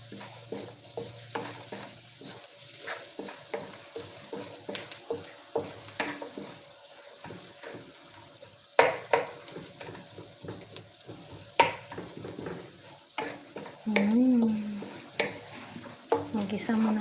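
Garlic and onion sauté in a pan for chicken curry, a low sizzle under frequent close scrapes and taps of a utensil stirring, continuing steadily with a few louder clatters.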